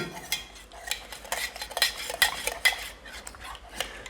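Coffee and palm sugar stirred with a spoon in a container, quick metallic clinks and scrapes in an uneven rhythm, close and moderately loud, with no talking.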